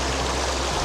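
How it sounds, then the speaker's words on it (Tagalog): River current rushing over rocks on a Mount Pinatubo trek, a steady, loud, close wash of flowing water with no voices over it. "Masarap pakinggan yung agos ng tubig."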